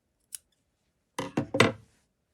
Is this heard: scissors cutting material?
yes